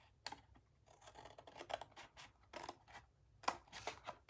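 Scissors snip tabs on a gift box along score lines, giving faint, close, crisp cuts in irregular short bursts with small paper rustles between them and no voices.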